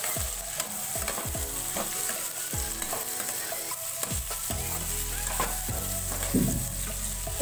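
Carrot and capsicum stir-frying for egg chow mein, a constant hot sizzle punctuated by repeated scraping and knocking strokes of a spatula in the pan, close and busy.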